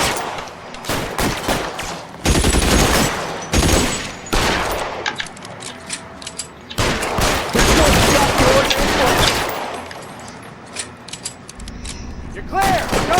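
Rapid gunfire in the crime game L.A. Noire, loud bursts and overlapping shots with mechanical clatter running through most of the stretch, mixed with shouting voices.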